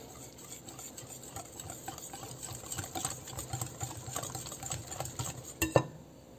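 Rice flake cake batter with banana being mixed in a bowl, a close, rhythmic series of wet scraping strokes that grows busier toward the end, finishing with a couple of sharper knocks.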